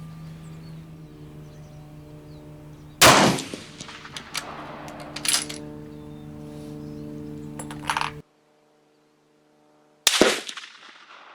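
A rifle fires at an outdoor shooting range: three or four sharp, loud reports spaced a couple of seconds apart, each with a brief ringing decay over a low background hum, and a short silent gap before the last shot.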